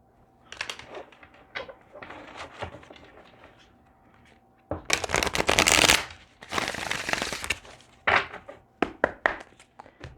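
Tarot cards are shuffled at close range in soft papery riffles and taps, building into two dense, louder bursts of riffling midway, then ending in a run of sharp, separate snaps.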